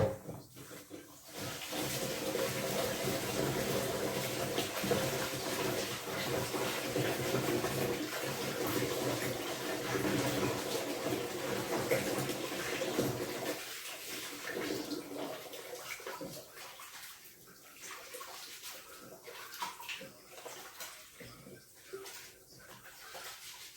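Tap water runs steadily into a kitchen sink as food is rinsed a second time because the water is still cloudy. The flow is loud and continuous at first, then softens midway with light splashing and clatter.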